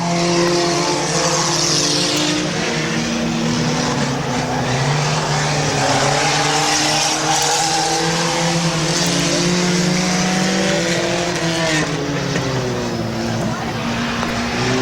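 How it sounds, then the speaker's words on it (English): Race cars lap the Midvale Speedway oval in a loud, continuous engine roar whose pitch rises and falls as they pass through the turns. The roar stays close and steady throughout, with no clear gaps. "Two to go for Blaine Salisbury in the 29 car"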